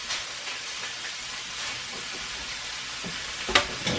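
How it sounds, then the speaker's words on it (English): Lean ground beef sizzling in a pan on a stovetop, a soft steady hiss close by with a faint clink near the end and no talking. "Then just put the ground beef back on the stove."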